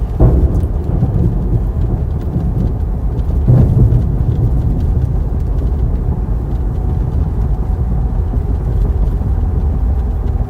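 Thunder from a close lightning strike rolls through heavy, steady rain during a severe storm in central Iowa, with a loud swell of rumble partway through the downpour.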